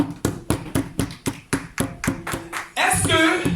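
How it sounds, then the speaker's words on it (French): A church congregation applauding in praise, a series of sharp rhythmic claps close by, about three per second, then breaking into louder mixed clapping and voices at the end. "Acclamons très fort le Seigneur."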